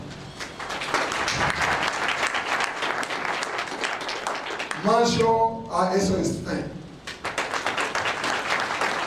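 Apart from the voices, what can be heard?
applause for technical and financial partners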